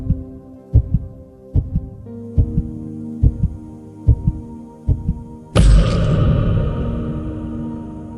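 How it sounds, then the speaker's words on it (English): Deep, regular thumps of a heartbeat pulse about every second over a low hum, then a sudden loud whooshing swell takes over. "All he could hear was his heart beating wildly in his chest"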